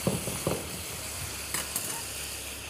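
Food for rigatoni with sausage and potato cream sizzles steadily in a pan while being stirred. A constant hiss carries on throughout, broken by a few soft scraping strokes of stirring, with no speech.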